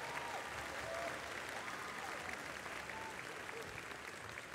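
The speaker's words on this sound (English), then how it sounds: "Give him a round of applause." Audience applause for a musician after his performance at a school holiday program, a steady wash of clapping that holds evenly for the whole stretch with a faint crowd murmur underneath.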